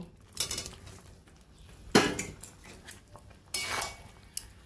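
Boiled jackfruit is mixed with spices and a splash of water in a pot, heard as scraping utensil strokes and metallic clanks in irregular bursts, close and fairly loud, with no talking.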